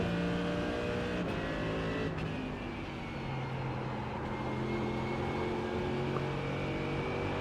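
Race car engines in a racing video game during a three-hour race at Spa, a steady, droning multi-tone engine roar holding at moderate level throughout with no talking.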